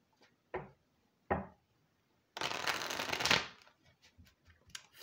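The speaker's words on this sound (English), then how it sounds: "And as I shuffle here, I'm going to keep looking, see if anything else pops up." Tarot cards get shuffled close up in a quiet room: two short riffling flicks, then a longer, louder burst of card shuffling, followed by soft scattered taps as the deck settles.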